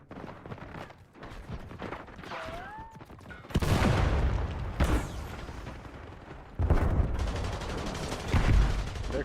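Gunfire in a first-person shooter video game: loud bursts of automatic fire and booming shots, with sharp onsets at several points and quieter pauses between volleys.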